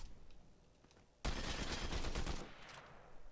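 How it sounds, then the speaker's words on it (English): A combat assault rifle fires in the Fortnite video game, a sudden loud burst of rapid shots that lasts about a second before dropping back to quieter game noise. "Something maybe like the combat assault rifle could be good."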